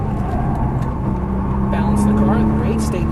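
A Nissan GT-R drives around a race track, its engine a loud, close, continuous roar that swells as it accelerates, with a voice talking over it.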